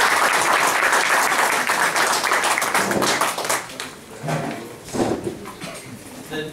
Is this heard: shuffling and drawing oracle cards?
no